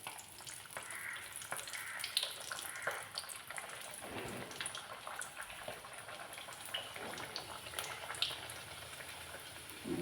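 Puri frying in hot oil for breakfast gives off a steady, soft sizzle with scattered tiny pops and bubbling, faint and close, continuing alone without any talking.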